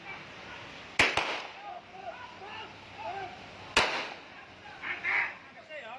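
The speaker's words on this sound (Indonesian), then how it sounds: "Suara tembakan terdengar berulang kali." Gunshots ring out during a police chase at a toll road exit, two close sharp cracks followed by a third a few seconds later, heard over a faint background of distant voices and traffic.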